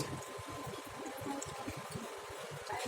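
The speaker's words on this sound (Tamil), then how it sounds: "இதில் கொஞ்சம் புளி தண்ணி" Tamarind water is poured into a fish masala mixture, giving a quiet, steady liquid trickle that continues for a few seconds without a break.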